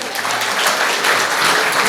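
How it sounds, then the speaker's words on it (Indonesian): An audience at an Indonesian religious and motivational talk bursts into loud, dense applause that carries on steadily for about two seconds. "Luar biasa, kasih tepuk tangan dong."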